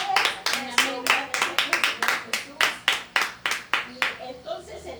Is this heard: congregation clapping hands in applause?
yes